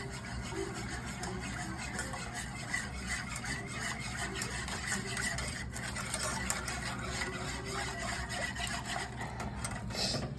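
Bread pudding mixture being whisked in a bowl, a continuous scraping, rubbing rhythm of the whisk up close, steady and moderately loud with no talk.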